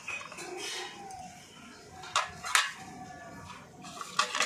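Ceramic bowls from a pudding set and a dinner set stacked one on top of another, giving a few sharp, close clinks and knocks at the end against a quiet room.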